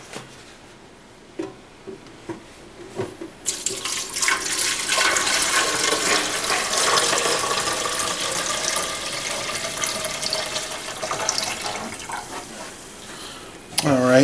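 Descaling solution is poured into the water reservoir of a Keurig K79 coffee maker, a loud continuous splashing gush starting after a few quiet clicks and running steadily for about ten seconds before tapering off.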